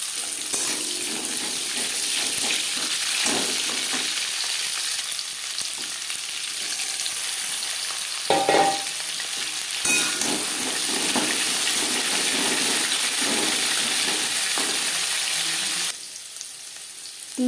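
Round-cut bitter gourd slices frying in refined oil, a loud steady sizzle and crackle from close by with occasional spatula stirs and clinks, easing off near the end.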